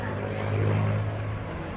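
A P-51D Mustang World War II fighter at a naval air station airshow, its propeller engine droning in a steady moderate rumble that swells slightly, with a voice talking over it.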